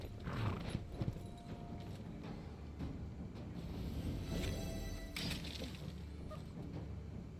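Roach the horse trots in the Gwent video game, rhythmic clip-clop hoofbeats with a few creaks and metallic rattles, fairly close and steady over several seconds, with no talk.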